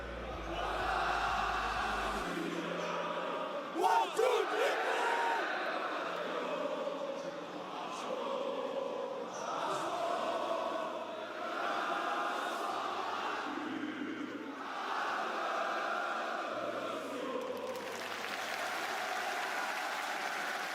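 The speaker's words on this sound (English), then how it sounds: "The crowd speaks for us." A large esports arena crowd cheers and roars continuously at the Rainbow Six Siege Six Invitational finals in Paris, a dense, sustained wall of voices swelling and easing in waves.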